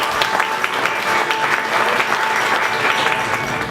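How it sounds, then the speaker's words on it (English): Audience applause welcoming a speaker at a talk event, a close, full round of clapping that stays steady and loud from start to finish. "Give him a round of applause"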